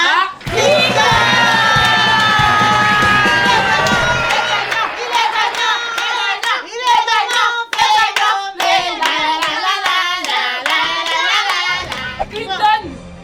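Crowd applauding a trophy winner, dense close clapping at first, then cheering and shouting voices with ongoing clapping, loud and continuous throughout.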